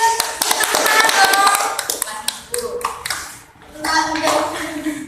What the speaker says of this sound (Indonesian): Jadi kita tepuk tangan